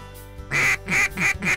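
Ducks quacking during a duck hunt, four loud, evenly spaced nasal quacks close by, following a brief low hum.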